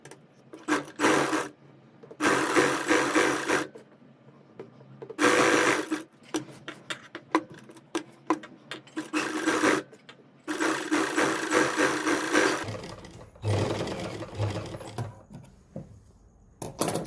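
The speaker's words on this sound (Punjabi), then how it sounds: "ਬੁਕਰਮ ਦੇ ਨਾਲ ਨਾਲ ਆਪਾਂ ਸਲਾਈ ਲਾਵਾਂਗੇ" A sewing machine stitches a suit neckline along buckram in several loud whirring bursts of a few seconds each, separated by pauses, clicks and cloth handling, with no talk.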